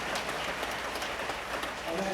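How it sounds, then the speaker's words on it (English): Convention audience at the CUPE National Convention 2019 claps steadily, a dense wash of applause from a large crowd, continuous and fairly loud for the whole clip. "I would like us to give them a warm round of applause to these people as well."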